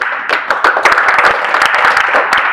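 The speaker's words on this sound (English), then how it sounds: "I want you to join me with a hand clap to appreciate our ambassador." Audience at a nutrition event in Kisumu, Kenya clapping hands in appreciation of an ambassador, a close, lively burst of many hands applauding in quick irregular claps.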